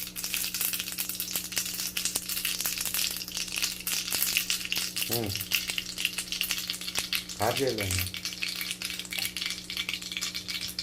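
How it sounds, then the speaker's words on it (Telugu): Mustard seeds sizzle and crackle in hot ghee, a steady close frying hiss throughout with a couple of brief louder spits and pops, no talking. "ఆవాలు వేస్తున్నాను"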